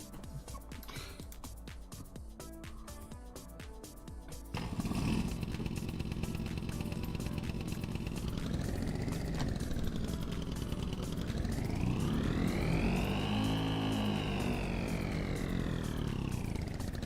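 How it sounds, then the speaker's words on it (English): A tuk-tuk engine starts up after a clatter and runs steadily, its buzzing motor note swelling and dropping as the revs rise and fall, loud and close throughout. "Engage the tuk-tuk."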